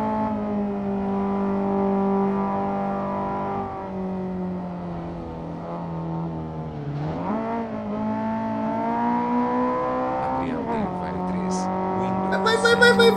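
A front-wheel-drive car races in Gran Turismo, its engine a steady buzzing drone whose pitch dips and climbs sharply twice as it shifts gears through corners, staying loud and close throughout.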